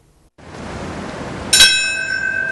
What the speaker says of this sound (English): Bells and silence mark the moments when hijacked planes hit the World Trade Center